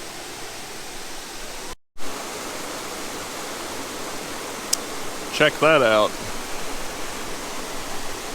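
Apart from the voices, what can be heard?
waterfall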